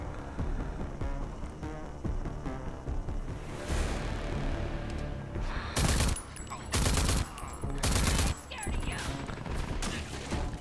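Gunfire from the shooter game Rage 2 rattles in rapid, dense bursts over a constant layer of game sound, with several loud volleys toward the end.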